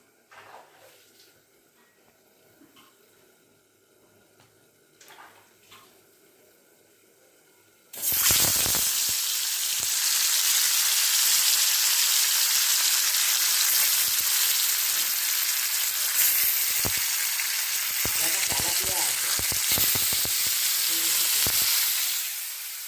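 Fish frying in a pan: after about eight seconds of quiet household background, a loud, dense sizzle suddenly bursts in close by and continues steadily, with occasional spatters and scrapes.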